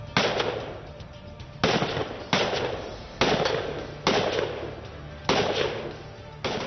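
Commandos fire guns at targets while descending a mountain, sharp loud reports in a steady series of about six shots, each bursting out and decaying slowly, with no talk.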